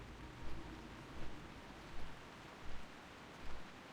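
Soft, steady rain falls in a World of Warcraft zone, a faint continuous hiss with gentle low swells recurring about every second, with no other sounds over it.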